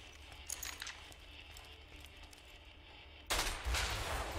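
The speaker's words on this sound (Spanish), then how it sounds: "creo que también es otro disparo que se divide." An iridescent splitting-shot assault rifle fires in Borderlands 2: after near silence, a sudden loud volley of rapid shots breaks out and keeps going to the end.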